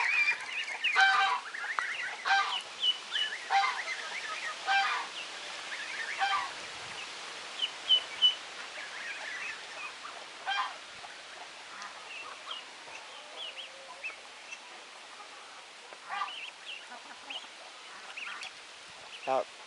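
Kars geese honk and cackle in scattered bursts at moderate distance, with quieter stretches between calls and faint background noise.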